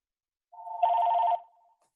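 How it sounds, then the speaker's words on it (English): A single electronic telephone ring, a steady buzzing tone lasting under a second with a softer lead-in and fading tail, heard alone in a quiet room. "Just a minute, my phone's ringing here."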